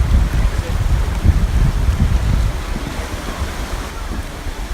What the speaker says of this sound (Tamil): அந்த தண்ணி சவுண்ட் கேட்டு உட்காந்துட்டு இருக்கிறது ரொம்ப ரிலாக்ஸிங்காக நல்லா இருந்தது.